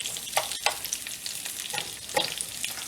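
Onions hit a hot skillet among sauteed yellow summer squash, giving a steady crackling sizzle with a few sharp spattering pops and stirring scrapes, close up.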